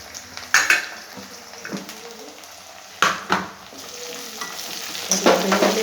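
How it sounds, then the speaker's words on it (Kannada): Garlic and curry leaves fry in hot oil in a pan, with a steady close sizzle broken by several sharp stirring scrapes and clanks of a utensil against the pan; no one speaks. "ಬೆಳ್ಳುಳ್ಳಿ ಮತ್ತು ಕರಿಬೇವಿನ ಸೊಪ್ಪು ಎಣ್ಣೆ ಫ್ರೈ ಆಗ್ತಾ ಇದೆ."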